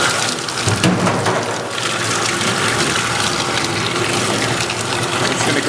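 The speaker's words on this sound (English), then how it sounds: "I'm just going to go ahead and kind of put this through the water, rinse it off." Hand-dyed roving rinsed under a running tap, a steady loud gush of water splashing continuously throughout with no talk.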